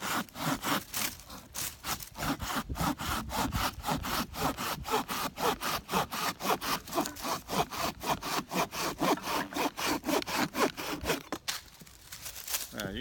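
A hand saw works through a piece of hard firewood in steady, rhythmic back-and-forth strokes, close and loud, running continuously for several seconds before a short pause.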